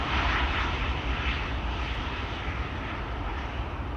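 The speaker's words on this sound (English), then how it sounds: "that's the A350. Long time no see." Airbus A350 airliner at Schiphol Airport, a steady, loud broadband jet roar that holds without break, close and continuous with no talking.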